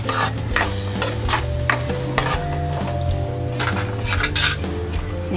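Samo millet khichdi, finished with lemon juice and coriander, is stirred and scooped onto a plate: loud, close spoon clinks and scrapes against metal in a rapid rhythm over a faint sizzle.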